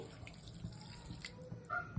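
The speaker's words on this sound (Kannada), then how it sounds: "2 ಗ್ಲಾಸ್ ಆಗೋಷ್ಟು ನೀರು ಹಾಕ್ತಾ ಇದ್ದೀನಿ." About two glasses of water pour steadily into a pressure cooker pot from close by, a soft continuous splashing with a few light clinks.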